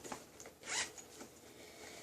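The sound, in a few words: zipper opening a backpack pocket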